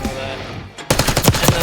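Rapid automatic gunfire from Black Ops 6 breaks out after a quieter start, a close, loud fast burst of shots with a sharp, repeating rhythm.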